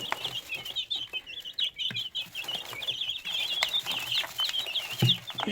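Broiler chickens feeding, giving a steady run of soft, high clucks and chirps from several birds close by, with occasional light knocks and scuffles underneath and no talking.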